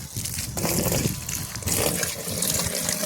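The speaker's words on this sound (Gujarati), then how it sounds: "આ પાણી ભરવાનું આપણે છે ચાલુ" Water gushing and splashing steadily as a container fills, a close, continuous rushing flow.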